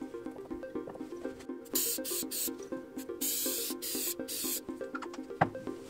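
A final coat of finish is rubbed by hand onto a wooden wrist rest for a Keychron K4 mechanical keyboard, making soft, close, repeated rubbing strokes over a faint background hum with a few bursts of hiss.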